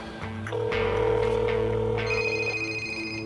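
A cell phone rings with a steady electronic tone that holds for a few seconds, with a higher warbling note joining partway through, loud and close over a low background hum.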